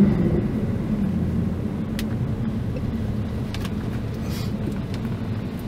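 A Mercedes C63 AMG V8 gives a loud, deep engine rumble heard from close by. The roar holds fairly steady across the stretch, with no one talking over it.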